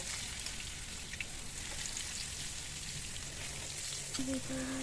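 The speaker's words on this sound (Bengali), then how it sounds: "তেল গরম হয়ে আসলে এতক্ষণ যে ম্যারিনেট করে রেখেছিলাম সেখান থেকে এক পিস করে সবগুলো মাছ দিয়ে দেব।" Marinated fish pieces fry in hot oil, a steady, fairly faint hiss and sizzle running throughout, with a brief tonal beep near the end.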